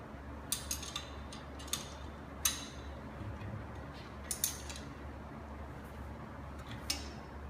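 A wrench snugs up the bolts on a Goulds ESV vertical multistage stainless steel water pump, making sparse, faint metallic clicks and ticks over a low steady hum, with no voices.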